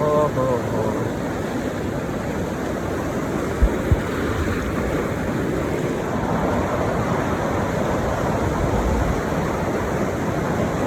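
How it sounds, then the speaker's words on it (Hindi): Loud rushing river water in Kashmir, a dense continuous roar of churning current close to the microphone, steady throughout with a couple of faint knocks and no break. "पानी की बहुत तेज़ आवाज़ है"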